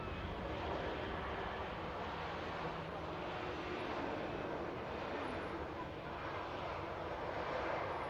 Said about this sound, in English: Lufthansa Airbus A320 rolling off on 23 road.